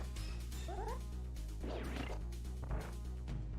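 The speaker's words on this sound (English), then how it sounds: "Sorry, I'm having to fight with a cat in my lap right now. She is demanding attention." A house cat sitting in a lap gives a short rising meow twice, fairly faint under steady game music and background sound.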